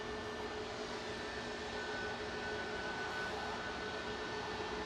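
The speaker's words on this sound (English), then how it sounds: "Lined up in front of us now is Jet2's GHLYH with flight 17952 to Kefalonia A321 Neo" Jet2 Airbus A321neo lined up on the runway at Manchester Airport, its engines giving a steady, fairly faint broadband whine and rumble with faint tonal hums, continuous throughout with no voices.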